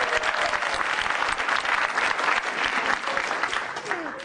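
Audience applause at a televised stand-up comedy show, a dense, steady wash of many hands clapping with a few faint whoops, loud and continuous throughout.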